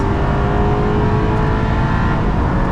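A car engine roars steadily at high revs under full throttle on the Nürburgring, loud and close, a continuous racing drone with no pauses.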